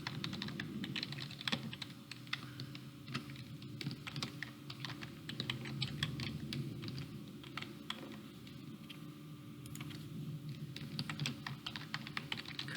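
A computer keyboard as a password is typed: steady, fairly close key clicks in uneven bursts throughout, with no voices.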